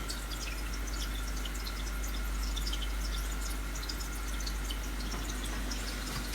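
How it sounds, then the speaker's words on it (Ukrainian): Water from an aquarium filter splashes steadily into a 30-litre aquarium, a soft continuous trickling with faint drips over a low hum. "як зараз ви чуєте, як вода шумить"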